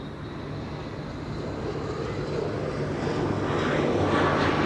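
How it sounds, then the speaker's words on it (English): A Boeing 747 takes off at Amsterdam Schiphol Airport with a broad jet roar that builds steadily louder, no voices present. "There is the third 747 taking off"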